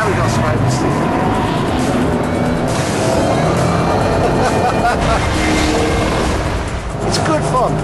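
A 2007 Ford Shelby Cobra GT500 oversteering through a corner, its V8 engine roaring loudly and continuously with tyre noise, someone talking over it.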